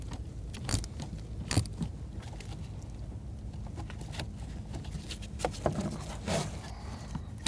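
A short 8mm socket loosens a lower bolt on the HVAC blend door actuator of a 2000-2007 Ford Taurus. Light metallic ratcheting clicks and tool taps come irregularly over a steady low background hum.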